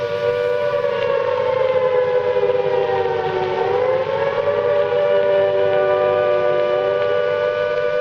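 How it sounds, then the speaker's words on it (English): A 1939 wartime air raid siren wails loud and alone, a sustained rising and falling tone with layered harmonics that dips and swells over several seconds. "You hear a siren,"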